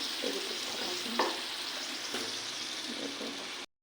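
Potatoes fry in a pan with duck curry for an Assamese dish, giving a steady, close sizzle with a few stirring scrapes. The sound cuts off abruptly at the end.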